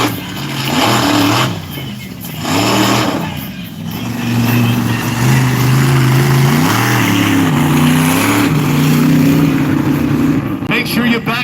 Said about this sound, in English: Aaron Basil and T-Rex makes his way out for his wheelie and donut chance.